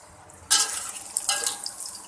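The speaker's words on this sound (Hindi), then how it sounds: "ऑयल हमारा हीटअप हो गया तो मैंने इसमें दरमियाने साइज़ के 4 ऑनियन डाल दिए हैं" Four medium-sized onions drop into heated cooking oil for a pulao, setting off a sudden loud sizzle that continues with scraping stirs and crackling bursts.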